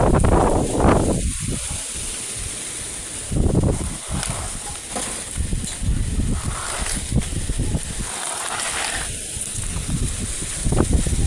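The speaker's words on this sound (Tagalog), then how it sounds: "Lakas ng hangin, grabe." Powerful gusts of wind blow outdoors, a loud rumbling rush against the microphone that surges and eases throughout.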